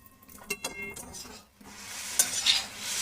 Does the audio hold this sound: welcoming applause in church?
no